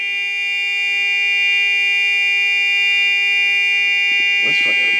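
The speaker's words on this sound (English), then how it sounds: "It's not it's a different buzzer." A continuous electronic buzzer in a Toyota Hiace van with a 1UZ-FE engine and Link ECU, a loud steady tonal drone that holds throughout, with brief voices near the end.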